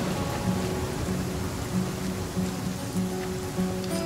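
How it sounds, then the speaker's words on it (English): Steady, dense rain falls in the video game The Flame in the Flood, a constant close hiss with a faint low hum underneath and no voices. "We can't be in the rain all day."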